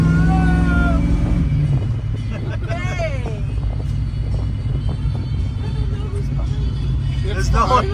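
An original Ford Maverick revs and accelerates from inside the cabin, a loud low engine rumble with its pitch shifting as it pulls away, while people talk over it throughout.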